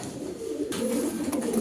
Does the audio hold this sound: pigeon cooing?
yes